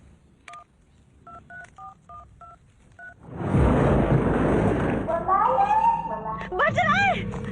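Phone keypad tones beeping in a quick irregular series, then a mobile phone ringing inside a crocodile, muffled under splashing and louder movie sound effects.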